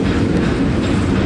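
A loaded eastbound potash freight train, symbol CP620, rolls past close by with a loud, continuous rumble of heavy wagons and a hint of wheel clatter.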